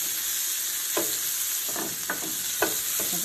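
Peppers sizzle steadily in a hot pan, with several brief scraping stirs cutting through the frying hiss at irregular intervals, close and fairly loud.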